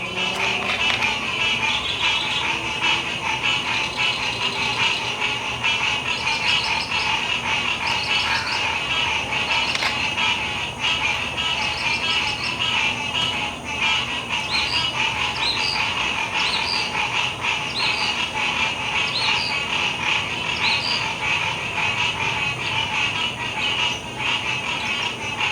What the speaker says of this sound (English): these frogs are going crazy